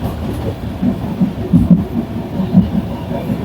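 Inside a moving passenger train, a low continuous rumble rolls on with soft rhythmic thumps from the wheels and faint rattling, fairly loud and close, with no voices.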